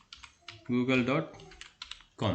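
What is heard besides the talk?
typing on a computer keyboard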